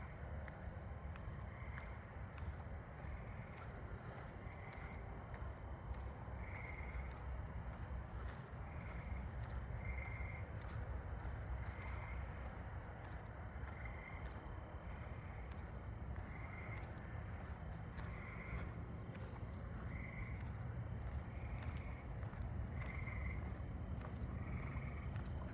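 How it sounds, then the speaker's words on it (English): Tree frogs and crickets call at night in a suburban neighbourhood: faint distant pulsing trills repeat at regular intervals over a constant high buzzing insect chorus and low background hum. "Oh, the tree frogs are here."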